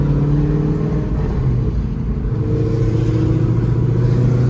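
A bolt-on sixth-generation Chevrolet Camaro engine drones loud and steady, its pitch shifting slightly as the revs change, with no voices.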